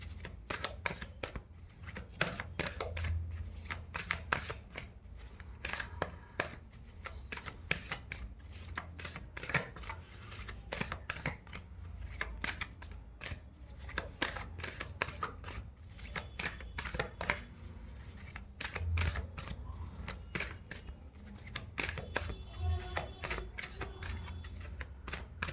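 Tarot cards are shuffled and handled in a steady run of crisp, rapid riffling and slapping clicks, close and fairly quiet, with no talking over them.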